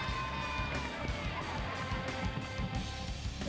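A hometown crowd cheers steadily at a Tigers high school football game, Bentonville against Valor Christian, as a dense continuous roar of many voices with a band in the background.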